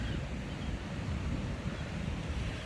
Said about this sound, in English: Watch out for those waves. Don't turn your back on the ocean.